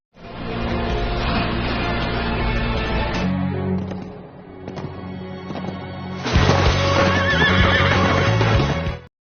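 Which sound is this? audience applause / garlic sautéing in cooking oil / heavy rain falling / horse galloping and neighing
horse galloping and neighing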